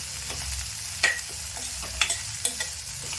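Drumstick flowers and egg stir-fried in a pan, an even sizzle punctuated by several sharp spatula clinks and scrapes against the metal.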